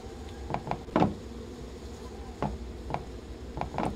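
Bees buzz around a beehive in the Barnyard video game, short buzzy bursts that come and go over a steady game background, with no voices.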